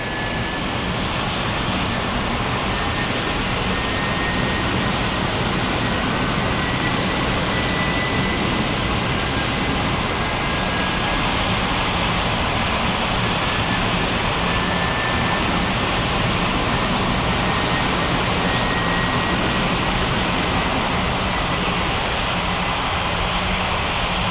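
Jet airliner engines in an air traffic control game at an airport, a continuous loud roaring drone with a steady high whine, unbroken and without voices.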